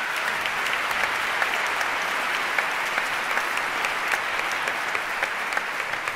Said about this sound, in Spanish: también merece un gran aplauso su director, el maestro Juan José Olivos